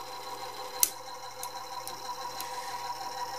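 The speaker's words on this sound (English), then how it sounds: "If I hit fast forward, jumps right, contacts that black gear up there, which turns that spindle." Gears whir faintly in a Harman/Kardon CD 91 cassette deck running in fast forward, a soft steady mechanical hum with a sharp click at the start and a few light ticks, close and quiet.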